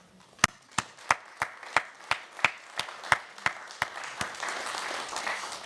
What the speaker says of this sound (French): d'applaudir.